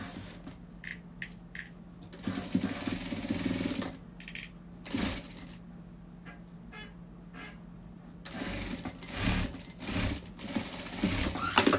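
A sewing machine stitches the back and sleeves of a child's garment in several loud bursts of rapid mechanical chatter, separated by short pauses and handling noise over a steady hum.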